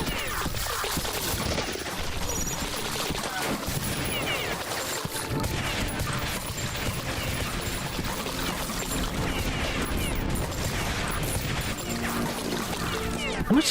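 Bullets fired from a gun in a shooting video game strike water in rapid, dense bursts, giving a continuous loud wash of splashy squelching impacts with no talk over it.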